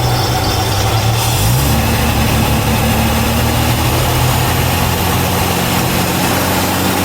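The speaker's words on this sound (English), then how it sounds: "It sounds like it's running on 6 cylinders." A 1972 Jaguar XJ6 engine idles on all six cylinders, running slightly rich, with a loud, close, steady rumble and no pauses.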